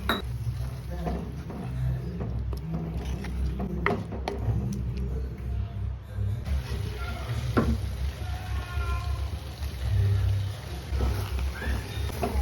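Tomato masala thinned with water bubbles hard in a pan for prawn roast, a busy sputtering sizzle with intermittent stirring scrapes, close and fairly loud throughout.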